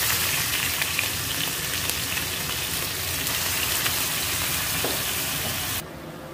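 Tadka tempering for saag sizzles hard in a pan, a loud, dense crackling hiss that runs on steadily and drops suddenly near the end, with no voices.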